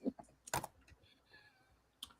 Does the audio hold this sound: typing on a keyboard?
yes